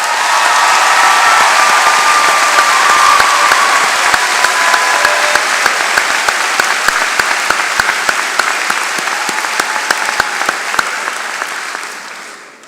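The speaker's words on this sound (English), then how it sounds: "please stand for a well-deserved round of applause" A large commencement audience bursts into sustained applause mixed with cheering and whoops, a dense, steady roar of clapping that holds for about twelve seconds before tapering off at the end.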